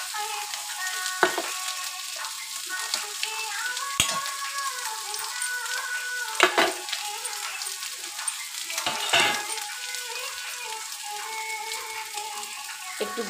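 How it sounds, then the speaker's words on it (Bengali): Banana stem and fried potatoes sizzle in a hot pan, a steady crackling hiss broken by a few louder scrapes and stirring clatters, close and continuous with no talk. "এই যে থোড়টা তো ভাজা ভাজা হয়ে গেছে। এবার আমি যে আলুটা ভেজে রেখেছিলাম সে আলুটা দিয়ে দিলাম।"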